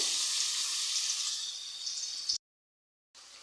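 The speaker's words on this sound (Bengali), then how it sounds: "এখানে দিয়ে দিব পর্যাপ্ত পরিমাণ তেল তারপরে এখানে দিয়ে দেব পেঁয়াজ বাটা দিয়ে দেব রসুন বাটা দিয়ে দেব" Onion and garlic paste fries in hot oil for a rohu fish curry, giving a steady hissing sizzle that cuts out abruptly into silence before resuming.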